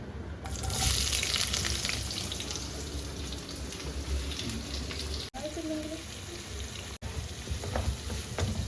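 Onions drop into a pan with cumin and cloves and fry with a soft, continuous sizzle at moderate distance, with occasional stirring clinks and a voice speaking now and then over it.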